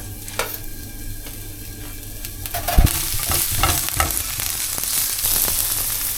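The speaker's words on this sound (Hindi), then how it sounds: "सबसे पहले इसमें बारीक कटे हुए मैं प्याज डालूँगी।" Finely chopped onion hitting a pan for a Thai yellow curry, setting off a close, steady sizzle with stirring clatter and a sharp burst as it lands, frying continuing without talk.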